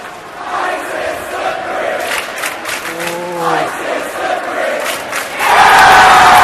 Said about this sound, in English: Crowd razzling him a little bit.